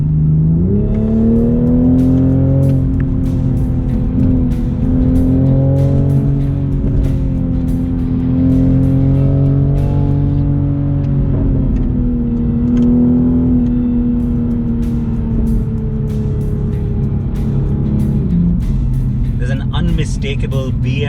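A BMW Z4 or Toyota GR Supra sports car in sport mode pulls hard, its engine note climbing through sustained, loud revs across gear changes, heard from inside the cabin.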